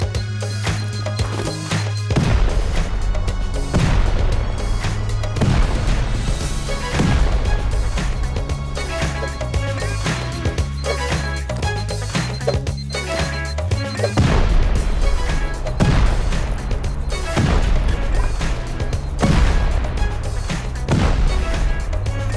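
Explosions in the online survival game Rust while raiding a base: repeated heavy booms and crashing blasts, some in quick clusters, loud and dense throughout with a low rumbling bed and no talk.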